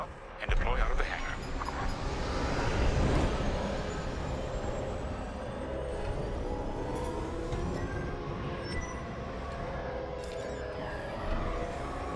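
Starfighter launching from a hangar in the video game Star Wars Squadrons, a loud rumbling engine roar that swells early and then settles into a sustained whine, with a voice speaking over it.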